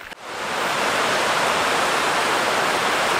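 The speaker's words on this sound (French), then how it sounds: "Il n'y a pas un gros débit mais ça permet de remplir la goutte quand même d'eau fraîche." Small mountain stream of fresh water running into a bottle, a continuous close rushing splash with steady, broadband hiss after a brief start.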